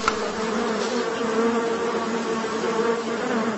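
Borsian honey bees swarm at an exhibition apiary at Shulgan-Tash in Bashkortostan, producing a dense, steady buzz close by that holds evenly throughout with no voices.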